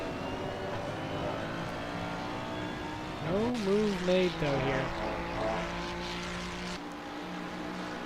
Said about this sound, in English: You can hear the engines roar.